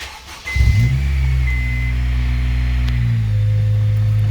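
A Honda Civic EP3 engine cranks briefly and catches, then settles into a loud, steady, close idle hum that holds to the end.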